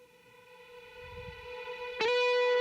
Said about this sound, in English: I did some like ridiculously long like reverb tail thing.